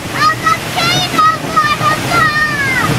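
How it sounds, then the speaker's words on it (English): A waterfall in Iceland heard from behind, roaring as a loud, constant broadband rush with high children's voices shouting and squealing over it. "We're behind the waterfall! This is the waterfall in Iceland!"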